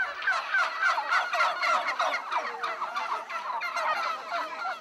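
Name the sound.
turkey (India hen) gobbling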